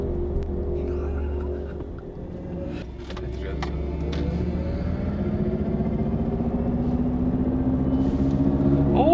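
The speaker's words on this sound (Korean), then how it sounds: "자, 가다가 자, 비비드 플럭스의 감속 소리는 어떤가?" The Mercedes EQE 350+ electric car plays its Vivid Flux synthetic drive sound while decelerating: a smooth tonal hum that slides and sweeps under the low rumble of the moving cabin, with a few brief clicks and rustles partway through.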